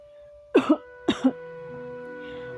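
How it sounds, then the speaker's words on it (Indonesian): Two short, rough coughs from an animated character, each a quick double burst, close by, over a steady background hum with faint tones. "Mendengar suara batuk"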